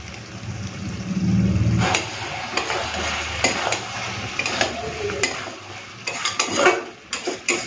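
A spoon stirs chicken and soybean curry in a pot after garam masala is added. Low bubbling comes first, then repeated scraping and clinking of metal against the pot, close and clear, in uneven strokes.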